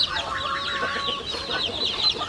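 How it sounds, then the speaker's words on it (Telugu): Two turkey hens call loudly and repeatedly at close range on a poultry farm, with a steady run of high, raspy clucking notes and no talk. "ఈ 2 టర్కీ కోళ్ళు అండి, బాగా అరుతున్నాయి"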